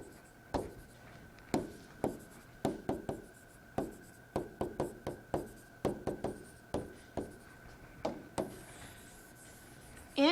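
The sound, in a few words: writing out a vector equation by hand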